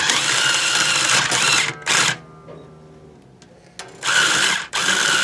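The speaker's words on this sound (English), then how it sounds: "This is my last day with this string winder." A guitar string winder whirring in quick loud bursts while restringing a Washburn guitar, buzzing like a small motor, stopping briefly between turns with faint clicks in the quiet gaps.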